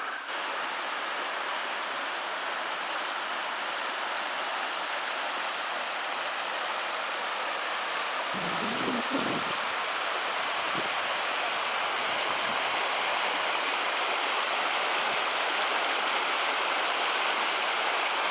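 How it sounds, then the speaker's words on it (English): Falling Water Creek on the Ozark Highlands Trail rushes in a steady, close roar of flowing water, with a few brief knocks and rustles partway through and no talking. "This is Falling Water Creek."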